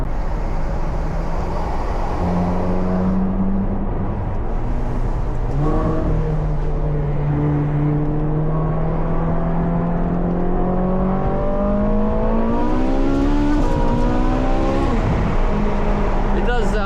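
A Ferrari 458 engine drones loudly while driving, pitch rising and falling through gear changes, with a strong rev climbing near the end.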